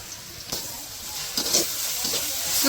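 Onions frying lightly with ginger-garlic paste, cumin, cinnamon and cardamom paste over a leaf-fuelled stove, giving a soft steady sizzle with brief bursts of hiss and stirring scrapes.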